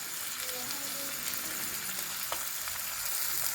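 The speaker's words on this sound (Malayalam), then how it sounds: "നന്നായിട്ട് നല്ല ബ്രൗൺ കളറാവുന്നത് വരെ ഒന്ന് വഴറ്റിയെടുക്കാം." Small shallots and a chopped onion sautéing in a pan for a Kerala-style fish fry give off a steady, close sizzle and gentle frying crackle throughout, with no talking.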